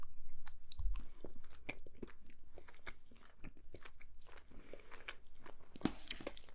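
Fruit leather being bitten and chewed up close, with soft repeated crunchy, sticky mouth sounds at a quiet level and no talking.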